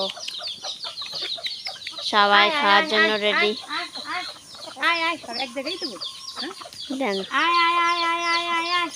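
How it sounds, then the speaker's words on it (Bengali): Free-range chickens cluck and squawk in bursts close by at afternoon feeding time, rising and falling over several seconds, while a person talks intermittently over the flock. "এই দেখো মুরগি সবগুলো এসে গেছে"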